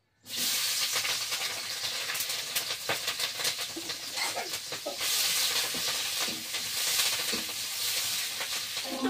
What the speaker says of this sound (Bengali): এবার কেটে রাখা পেঁয়াজ কাঁচা লঙ্কা গুলো তেলে দিয়ে দিচ্ছি। তেলটা কিন্তু দেওয়ার সাথে সাথে গরম হয়ে গিয়েছে।